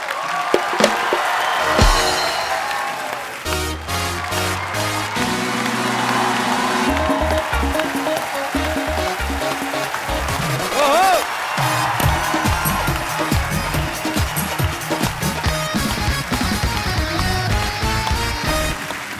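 A studio audience at a comedy talk show applauds and cheers while a guest singer is welcomed, with clapping and whoops running over loud band music for the whole stretch.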